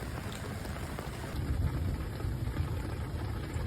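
Steady rain, now easing off as floodwater recedes through an outdoor drain, hissing and pattering on surfaces, a dense continuous wash with low rumbling underneath, no voices.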